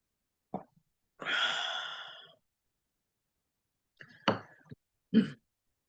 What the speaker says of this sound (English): Bringing tears to my ears as I cough.